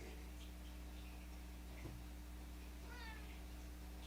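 A pet cat gives a short meow near the end, faint over a steady electrical hum and light ticking, with a soft tap in the middle and no talking.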